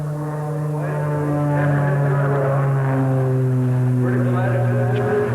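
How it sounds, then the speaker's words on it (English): A propeller aerobatic plane trailing smoke climbs over the top and dives toward the ground at the 1993 Oshkosh airshow, its engine a loud, steady droning hum that shifts pitch through the manoeuvre while a voice talks over it. "Here you can see the smoke trail behind Patrick as he comes over the top and dives toward the ground."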